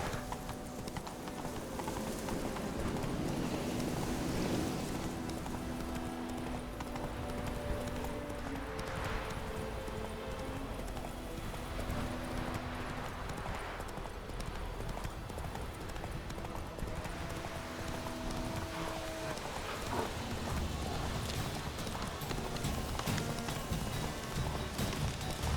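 Roach the horse gallops in The Witcher 3, with steady rhythmic hoofbeats that run the whole time over a soft rain-like hiss, and faint tonal music or ambience in the background.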